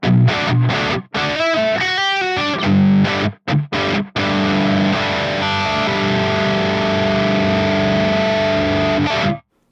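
Loud distorted electric guitar, a Squier Classic Vibe Jazzmaster on its rhythm circuit, strums several chords with brief stops, then lets one thick chord ring out until it cuts off.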